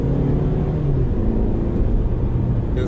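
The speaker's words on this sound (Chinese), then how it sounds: "左脚刹车，右脚油门，两千转起步" A GAC Trumpchi GS3 Power on a test track launches from about 2000 rpm in Normal mode and accelerates, with a steady, loud engine drone and low rumble holding throughout.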